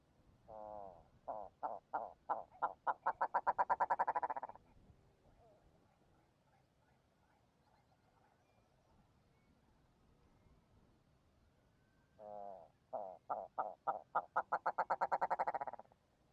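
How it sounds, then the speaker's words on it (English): Red grouse on upland blanket bog and heather giving contact and breeding calls: two loud bursts of rapid, accelerating croaking notes, each rising into a quick rattling run, separated by a long quiet gap with faint background. "here are some contact and breeding calls from red grouse"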